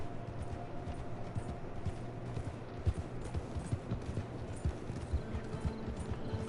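Horse hooves clip-clopping in the video game Red Dead Online, a steady, quiet, rhythmic patter of steps running throughout over a low hum of game ambience.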